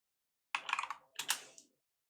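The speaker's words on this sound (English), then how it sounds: "The sound of two classes furiously typing to get to the log." Two bursts of rapid keyboard typing from players racing on computers at a LAN esports match, close and busy clatter with a brief pause between, no voices.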